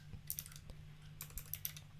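Keys clatter on a computer keyboard in uneven bursts of typing, close and fairly crisp, with a steady low hum underneath and no talking.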